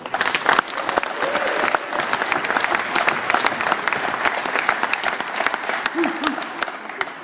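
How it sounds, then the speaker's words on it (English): Crowd at a workplace gathering in Calgary applauds the teams, dense, lively clapping with a few whoops, loud and sustained from start to finish. "you deserve a big round of applause"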